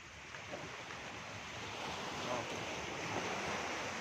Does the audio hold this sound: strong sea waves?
yes